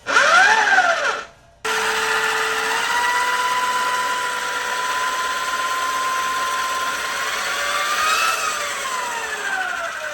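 A cheap modified electric dirt bike pulls hard in Sport mode with a loud, close electric motor whine. The whine cuts out briefly, then returns and holds steady before its pitch sweeps up and down as speed changes.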